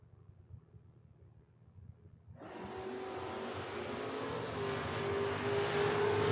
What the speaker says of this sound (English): Seth Phillips up here now in the Barracuda, 679. Taking on Travis Hill, 634 in the Mustang